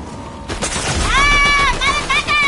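Gunfire in Fortnite, several sharp shots in quick succession amid busy game sounds, with a voice shouting over the action.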